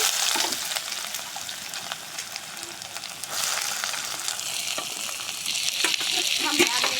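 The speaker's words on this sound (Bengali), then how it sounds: "এরপর আমরা দিচ্ছি পেঁয়াজ কুচি।" Chopped onions hit hot oil already seasoned with bay leaf, cinnamon and black cardamom, giving a steady, close sizzle and crackle that runs throughout with no talking.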